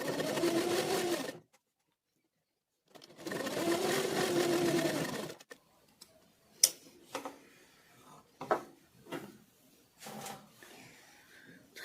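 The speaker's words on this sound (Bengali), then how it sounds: "এভাবে রেখে এভাবে এই সাইড থেকে সেলাই চালিয়ে নেব" A sewing machine stitching a boat-neck blouse runs in two steady bursts separated by a short pause, followed by scattered clicks and handling noises as the fabric is adjusted.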